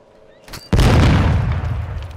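A C4 charge in Call of Duty: Modern Warfare 2 goes off after a brief click, a sudden loud blast followed by a heavy rumbling decay that trails away over a couple of seconds.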